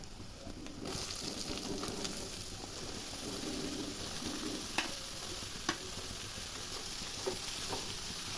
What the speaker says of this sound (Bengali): পেঁয়াজটা লাল লাল করে ভাজা হয়ে গিয়েছে, এখন এর মধ্যে দিয়ে দেবো আগে থেকে কেটে রাখা ঝিঙে।